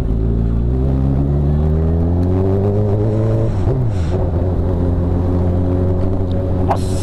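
A car engine on a city street at night rises in a steady, strained rev with a climbing pitch, then drops sharply and settles into a lower, rough idle. The engine is close and loud.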